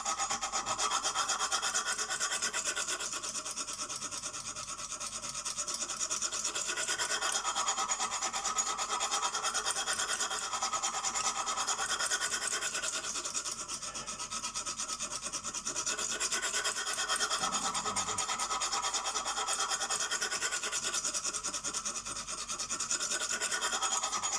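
A CK Viper knife blade being sharpened on a Lansky guided sharpener, a continuous rasping rub of stone on steel in long, even back-and-forth strokes, close and unbroken by speech.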